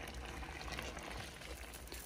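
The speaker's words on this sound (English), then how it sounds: "so now I'm gonna add more water again." Water pours into a pot of stewing cow feet for a Haitian-style ragout, giving a faint, steady bubbling and sloshing wash with no talk.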